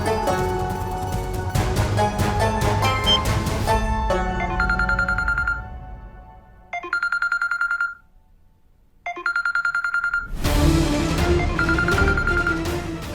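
A telephone plays a musical ringtone, loud and close, a melodic phrase that repeats in short bursts with brief gaps before swelling back in fully, with no talk over it.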